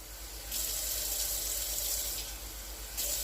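Cold tap water pours into a cup in a soft, continuous stream, the splashing briefly brightening now and then.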